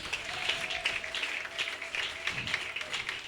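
A church congregation applauds the Lord together, a steady wash of many hands clapping at moderate distance, with voices faintly underneath.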